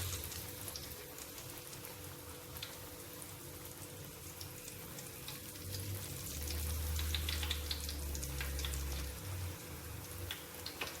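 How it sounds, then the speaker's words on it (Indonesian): Steady crackling sizzle of thin fishcake sheets frying in hot oil, continuous throughout with a low rumble swelling in the middle; no talking. "Menggoreng odeng lembaran ini tidak perlu terlalu lama, karena ini tipis jadi cepat matang."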